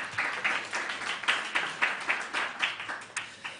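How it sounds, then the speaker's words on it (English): A small audience at a panel discussion on workplace safety policy applauds, with a dense burst of hand claps settling into rhythmic, evenly spaced group clapping at moderate distance. "Applause to him."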